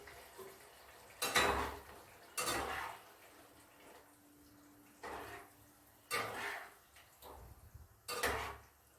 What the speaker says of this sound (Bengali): এবার এই ফুলকপি আর মটরশুঁটিটা দিয়ে দিলাম